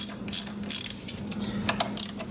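A wrench ratchets on a 12 millimeter bolt during a 1.8 engine swap on an NA/NB Miata, with quick, irregular clicking bursts over a steady low hum nearby.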